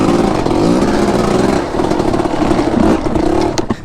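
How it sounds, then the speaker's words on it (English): A Yamaha YZ250 two-stroke motocross bike engine revs loud and close, a raspy, buzzing burst that holds high before dropping back toward idle. "This is an MX bike. It's a Yamaha YZ250 two-stroke."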